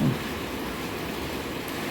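Steady rain falls in Daet, a dense, unbroken wash of noise heard without talk.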